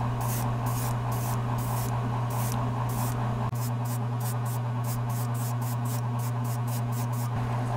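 An airbrush sprays paint on a painted bust, giving a close, continuous breathy hiss over a low steady hum, broken into short rhythmic bursts in the second half as the trigger is pulsed.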